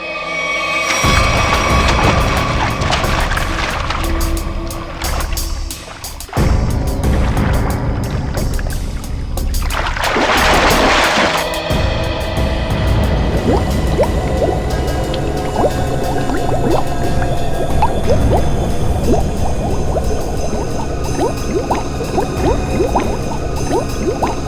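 Two people plunge into water, with churning splashes, bubbling and gurgling filling the scene. A sharp burst of splashing near the middle gives way to steady rushing, dripping water.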